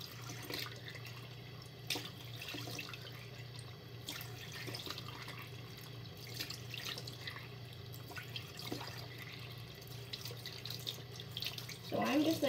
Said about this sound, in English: holding the water and like kind of like bending it into like kind of like a spout shape